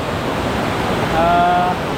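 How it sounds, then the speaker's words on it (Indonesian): Heavy downpour at the Yamitala river on Mount Binaya, a dense continuous roar of rain and rushing water, close and loud, with a brief faint tonal whistle partway through. "Ini hujan gede guys, lumayan."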